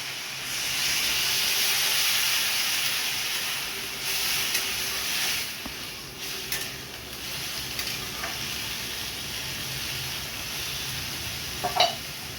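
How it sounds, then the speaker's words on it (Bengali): Water poured into a hot pan of katla fish curry, setting off a loud, continuous sizzle and hiss of steam that slowly eases off, with a few faint clinks near the end. "এবার জল দিয়ে দেবো।"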